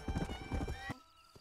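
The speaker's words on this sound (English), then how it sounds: "so I need a name for the horse." Horse hooves clip-clop in a steady rhythm in Red Dead Redemption, with a snort or whinny mixed in, then stop abruptly and leave near silence.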